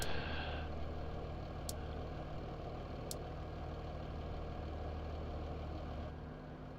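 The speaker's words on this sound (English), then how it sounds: "Oh, helps if I don't turn the engine off and keep that going." A farm vehicle's engine left running at idle, a steady low rumble holding throughout at close range with no talk over it.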